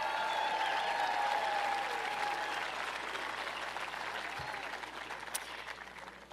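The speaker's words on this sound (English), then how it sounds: "Let's give them a round of applause." Crowd applause at an outdoor Mount Rushmore celebration of America's 250th birthday, a dense sustained clapping that starts strong and gradually tapers over several seconds, with a faint tonal hum underneath.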